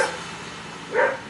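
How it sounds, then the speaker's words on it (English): A single short bark rings out in the distance over a quiet, steady background. "and my dogs are barking"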